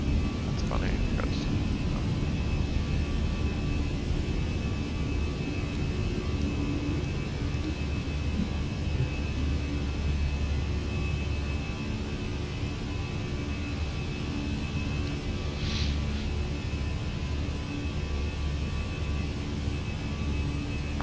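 Fenix A320 jet engines at takeoff rotation in Microsoft Flight Simulator, departing Calgary: a steady, loud, broadband roar that holds evenly throughout with a low rumble underneath.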